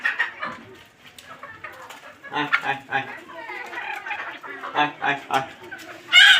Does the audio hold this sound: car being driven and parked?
no